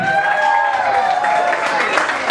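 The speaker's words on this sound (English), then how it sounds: "Please keep the applause going," Audience applause and cheering in a room for Chloe, runner-up at the Regent Bay Park finals after singing a song, a steady loud wash of clapping with a held sung note carrying over it.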